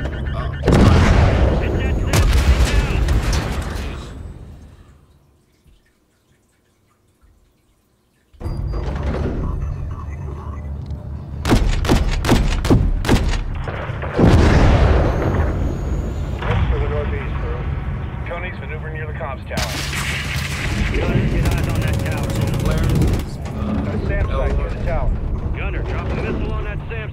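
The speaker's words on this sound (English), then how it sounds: "Hit that SAM site with a missile." Missile strikes hitting an enemy SAM site in a Modern Warfare gunner mission, with heavy booming blasts and rumbling impacts, a short near-silent gap, then more loud explosions and mechanical noise mixed with radio chatter.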